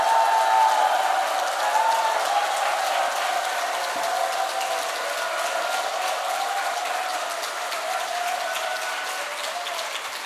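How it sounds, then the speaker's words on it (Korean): A revival-meeting congregation in a Korean Full Gospel church applauds warmly and steadily, a dense wash of clapping that fills the room for the whole stretch and tapers slightly toward the end, with faint crowd murmur underneath. "한번 뜨겁게 우리 기쁜 마음으로 한번 박수 칩니다"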